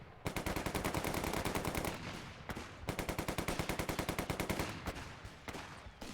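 Soldiers' automatic weapons fire in the video game Company of Heroes 3: loud, rapid machine-gun bursts rattle almost continuously, with a brief pause near the middle and shorter breaks toward the end, with no voices.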